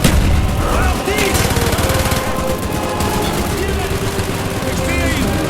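Dense automatic gunfire and explosions in the Black Ops shooter Project Nova, loud rapid bursts with no let-up, with soldiers shouting over the battle.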